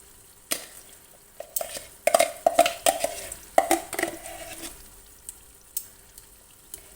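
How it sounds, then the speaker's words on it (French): Tomato paste being stirred and sautéed in oil in a pot, with scraping stir strokes and soft sizzling for soup, moderately close and fairly quiet, with no talking. "Et la tomate concentrée, il faut bien la faire revenir en fait avec l'huile pour enlever l'amertume"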